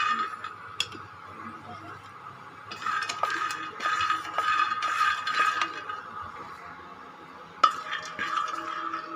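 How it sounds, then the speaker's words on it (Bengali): Peanuts frying and being stirred in a pan for a village-style khichuri, with a steady scraping and rustling of spoon against metal, soft crackle underneath and a few sharper clinks, fairly close and without talk. "এবারে বাদামগুলো ভেজে নিচ্ছি।"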